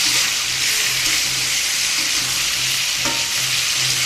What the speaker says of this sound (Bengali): মাছটা ভেজে নেব